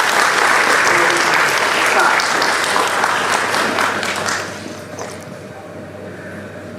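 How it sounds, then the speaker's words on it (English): A large audience claps steadily at an evening event honoring a woman, loud and dense at first, then thinning and fading out toward the end. "a big round of applause for her"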